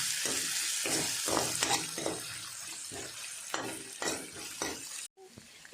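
Ginger and garlic fry in hot oil for an Assamese fish dish, with a steady close sizzle broken by repeated scrapes and stirs of a spatula against the pan, then a brief pause.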